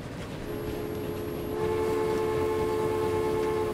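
A passenger train in Transport Fever, set in 1870, rolls along steadily with a rumbling wheel noise, and a long sustained horn tone joins partway through and holds to the end, loud and close.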